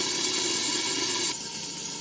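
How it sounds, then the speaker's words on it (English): Water steaming and hissing under a cover in a hot pan to melt American cheese for a cheeseburger, a loud continuous hiss that drops slightly in level partway through. "A little bit of water. Cover it up. Little steam bath."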